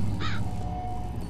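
A single harsh caw from a crow-like bird in the video game Silent Hill Downpour, brief and fairly close over a steady low ambient rumble.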